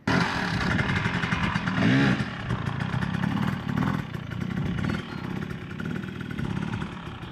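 An enduro motorcycle such as a Beta or KTM runs during hard enduro riding, its engine loud and close with steady rasping drone, small rev swells and rattling clatter, no talk.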